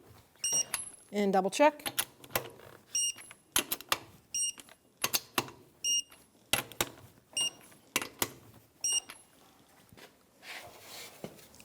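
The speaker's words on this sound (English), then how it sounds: "we're going to torque the wheels to 76 foot-pounds in a cross pattern, crisscross." Torque wrench tightening the 21mm wheel nuts on a 2013-2018 Toyota RAV4 to spec in a crisscross pattern, giving a series of sharp, close clicks at regular intervals, with a brief spoken remark near the start.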